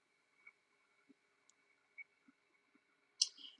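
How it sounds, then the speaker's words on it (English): A computer mouse clicked to save a form, heard as a few faint, sparse clicks in a quiet room, ending in a slightly louder click-and-rustle burst. "I'm going to click Save New."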